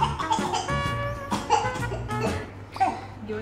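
Young children cough repeatedly at close range, the short rough bursts mixed with giggles and voiced laughter in a lively indoor scene.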